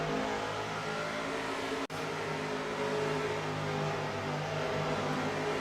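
Race cars roar continuously during a QRA championship race, with the number 6 car among them, a steady loud engine drone broken by a single sharp dropout near the two-second mark.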